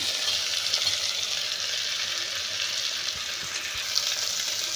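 Chopped ridge gourd sizzles in a hot pan of oil with spices, a steady, fairly loud hiss with faint stirring knocks underneath.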